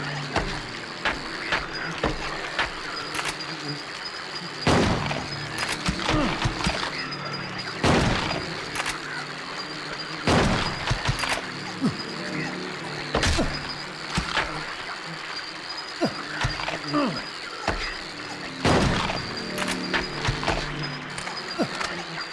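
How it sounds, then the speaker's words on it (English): Repeated gunfire in Silent Hill 2 as a room is shot up, sharp irregular bangs rising over a constant droning game ambience, with occasional voice mixed in. "do actually have to just shoot up this room like crazy"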